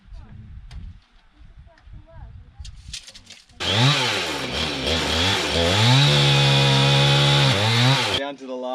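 Power saw cutting cladding boards, spinning up after a few seconds of quiet talk and knocking, then a loud, close whine rising and falling as the blade bites for about five seconds before stopping.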